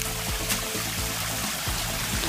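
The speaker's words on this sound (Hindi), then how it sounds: "यहाँ आप लोगों को इसी टाइप का झरना देखने के लिए मिलेगा" Water of the Kamla Jharan waterfall near Daspur flowing steadily in the open air, a soft continuous rush with light trickling, moderately distant and alone without talk.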